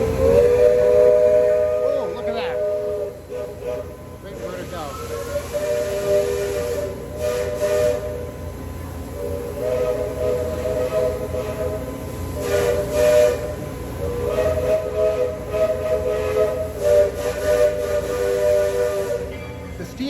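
A steam train whistle sounds in repeated long, steady blasts over a hissing, rumbling background, with short gaps between each blast.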